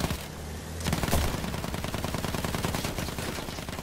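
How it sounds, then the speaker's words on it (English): Rapid machine-gun fire from an aircraft tail gun in the World War I shooter Battlefield 1, a steady stuttering burst of closely spaced shots that runs nearly continuously and loudly after a brief quieter start. "he's got a tail gun too"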